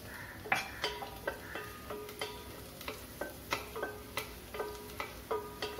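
Vadagam tempering in about two tablespoons of hot oil for mochai kottai kuzhambu, spluttering in a steady run of sharp, close pops and crackles over a soft sizzle, with no voices.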